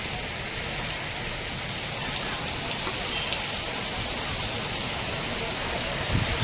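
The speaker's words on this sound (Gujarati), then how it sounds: "પાંથાવાડામાં જોરદાર વરસાદ ચાલુ છે" Heavy rain pours steadily in Panthawada village, Gujarat, a dense, constant hiss of drops hitting surfaces close by, with no breaks or voices.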